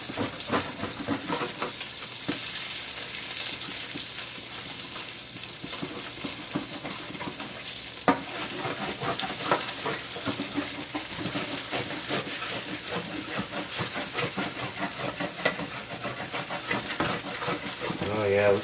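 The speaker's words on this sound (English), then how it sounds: "We've added our butter. And we're going to scrape some of that char off of there." A spatula scrapes browned char from the base of a pan, not non-stick, in bubbling butter and olive oil while cooking chicken marsala. Dense, continuous sizzling and scraping stay close and fairly loud throughout.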